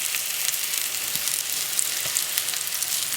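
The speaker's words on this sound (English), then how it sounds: "Just listen to that sizzle." Apple slices frying in a pan beside a pork chop dinner, giving a continuous loud hissing sizzle with faint crackles and no voices.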